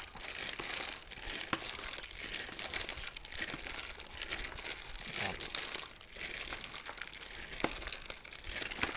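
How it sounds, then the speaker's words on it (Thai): Wet crinkling and squelching as Thai papaya salad with crab and fermented fish is mashed and mixed by hand, a continuous close-up crunch with no talk. "เราก็ต้อง ใช้แบบ ใช้มือขยำเอานะครับ"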